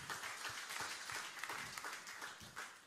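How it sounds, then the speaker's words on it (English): A church congregation claps together at a Sunday service, a quiet, roomy burst of many hands with individual claps audible, lasting a few seconds. "You can give yourselves a clap."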